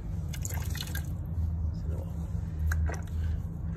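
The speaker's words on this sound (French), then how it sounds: "on a versé de l'essence dans la bassine et un peu aussi dans la vanne EGR" Gasoline dripping and trickling into a basin where a Clio 3 1.5 dCi EGR valve is soaking, small irregular liquid drips close by over a low background hum.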